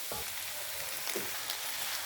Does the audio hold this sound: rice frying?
yes